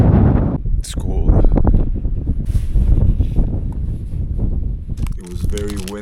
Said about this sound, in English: get away from the wind a little bit